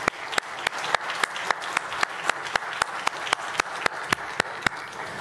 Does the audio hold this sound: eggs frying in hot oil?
no